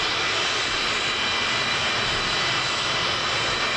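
A Vautour IIN jet in Microsoft Flight Simulator taxiing on the ground, a steady loud engine whine and roar holding constant throughout without talk.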